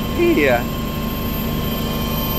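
Inside a VIP helicopter during a joy flight, a constant engine and rotor drone fills the cabin while a person speaks a short word over it.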